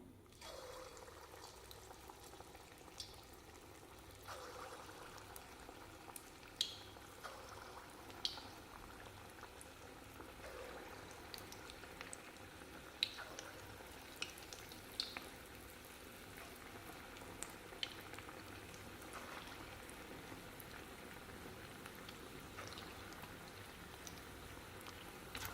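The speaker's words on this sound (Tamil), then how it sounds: "எண்ணெய் சூடாயிடுச்சுங்க. போண்டாவை போட்டுக்கலாம்." Small corn bondas dropped into hot oil fry with a faint, steady bubbling hiss, dotted with occasional soft pops and crackles throughout.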